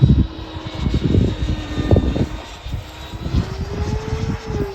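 A Freewing Hornet RC jet in flight, its engine roaring loud and steady with a rising whine toward the end, overhead with bursts of wind buffeting.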